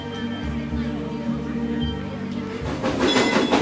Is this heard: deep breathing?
no